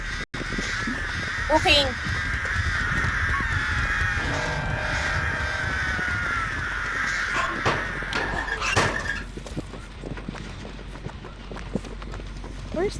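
Crows caw a few times amid Dead by Daylight game sound effects and running footsteps, while a person talks over it.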